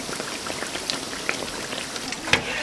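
Sweet potato pieces frying in hot oil at a snack shop, a steady close crackle and hiss with scattered sharper pops, no voices.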